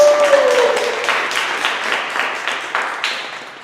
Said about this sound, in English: Let's give a round of applause for Peter